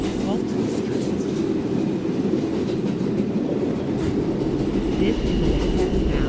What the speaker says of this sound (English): This is a Manhattan-bound 3 shuttle train.